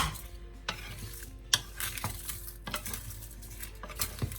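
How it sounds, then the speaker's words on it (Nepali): Garlic, dry chili and timur with black-eyed peas stirred in a pan, heard as repeated close scrapes and clatters of a spoon against metal over a soft sizzle, in irregular strokes. "अब यसलाई एकचोटि चलाइदिउँ।"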